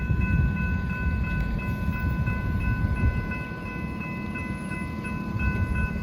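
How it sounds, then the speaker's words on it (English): A northbound Brightline train passes a crossing in Sebastian, steady rumbling and rolling with a continuous loud wash of wheel noise. Crossing bells ring steadily at the same time. "this time we have a Northbound Brightline train coming"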